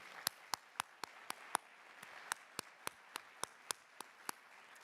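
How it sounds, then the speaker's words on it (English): Faint applause at a charity challenge finals event: sparse, evenly timed single claps, quiet and distant, with nothing else heard in the room. "Please give a big round of applause to the Rothschild Foundation."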